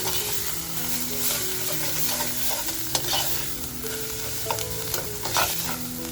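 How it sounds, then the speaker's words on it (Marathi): Homemade masala for egg curry fries in a pan with a loud, continuous sizzle and crackle, punctuated by occasional stirring clicks and scrapes. "मसाला सुद्धा आपला छान असा याच्यावर फ्राय झालाय"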